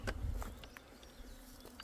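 Western honeybees buzzing nearby at a hornet trap, soft droning hums that swell and fade as individual insects move around, with a few faint taps.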